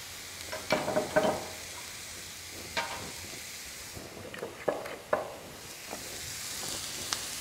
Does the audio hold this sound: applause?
no